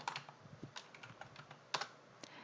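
Quick bursts of keystrokes sound on a computer keyboard as sheet names are typed into a spreadsheet, irregular clicks and taps close by and quiet, with one sharper press standing out and no talk.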